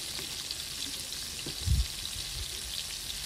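An egg omelet with scallops and potato sizzles in a frying pan, a steady close crackle and hiss that runs throughout with a soft low thump partway through.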